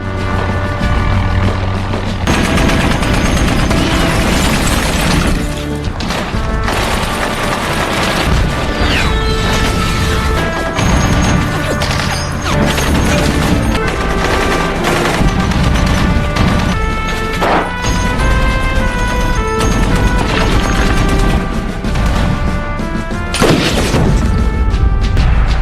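Gunfire and explosive impacts as militia fighters attack a convoy of three Humvees in the war film Black Hawk Down, a loud, dense barrage of crashes, booms and bursts running continuously with a roaring film soundtrack.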